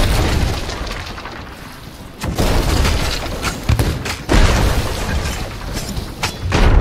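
Heavy booming cannon shots in a pirate-ship video game, several deep thuds spaced a second or two apart over a rumbling background, loud and close.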